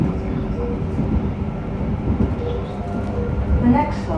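JR Hokkaido 731 series train car MoHa 731-109, running with an abnormal noise: continuous rumbling, droning ride sound heard from inside the car, steady and fairly loud, with faint higher squeals near the end.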